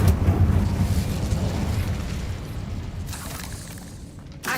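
A fire spell cast in the video game Hogwarts Legacy: a loud, rushing roar of flame that bursts at the start, then fades steadily over a few seconds, with a short burst at the end.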